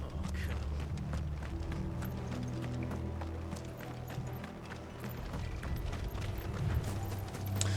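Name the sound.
horses clip-clopping in the video game Final Fantasy 16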